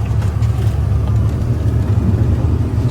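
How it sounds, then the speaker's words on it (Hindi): A truck climbs uphill through snow on the high Baralacha La pass in Ladakh, its engine a loud, close, steady low drone with no pauses. "पूरा बर्फ के बीच होते हुए वो जा रही है अपनी दूसरी गाड़ी ऊपर"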